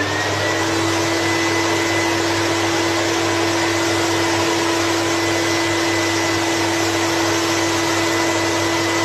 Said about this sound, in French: tu passes aspirateur